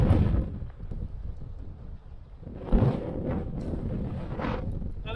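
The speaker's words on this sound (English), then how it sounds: "On a blustery, windy day." Strong gusts of wind on a cliff on Flores in the Azores buffet the microphone in heavy rumbling bursts, rising and falling, with a louder blast midway and no talking.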